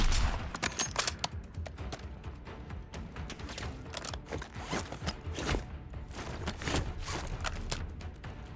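Gunfire in Call of Duty: Modern Warfare 3, a fairly quiet run of sharp cracks and short bursts, some clustered and some spaced out, sounding a little distant within the game's ambience.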